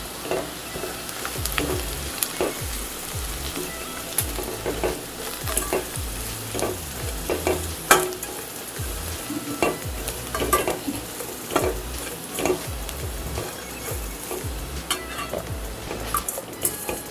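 Bread cubes sauté in a pan for egg bread upma, a soft steady sizzle under repeated scrapes and clinks of a spoon stirring against the metal, close and continuous.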